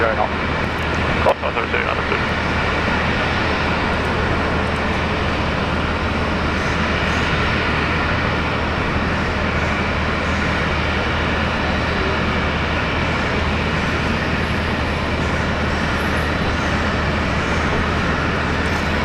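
A Virgin Australia airliner coming in to land at Brisbane Airport after a flight from Townsville makes a loud, continuous jet roar that holds steady throughout, with one sharp knock early on.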